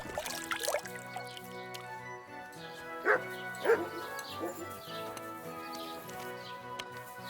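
A dog in the medieval video game Kingdom Come: Deliverance 2 gives a couple of short barks and yips amid quiet background game music and ambience.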